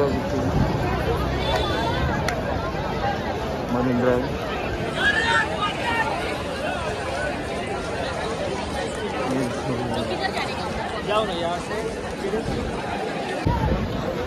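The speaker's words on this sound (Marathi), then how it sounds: "मरीन ड्राईव्ह स्टेशनला खूपच गर्दी झालेली आहे" A huge crowd packs Marine Drive station in Mumbai, waiting in the evening for the 2024 World Cup team road show. Dense, steady chatter and babble fill the scene while a nearby voice speaks over it.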